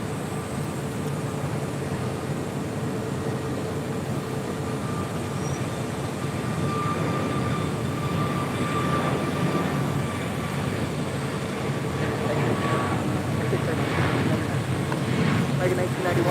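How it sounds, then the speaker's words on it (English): A jet takes off from runway 25 Right at LAX, a steady, broad roar that swells slightly toward the end, with faint voices nearby. "Docker, 25 right, there's the takeoff"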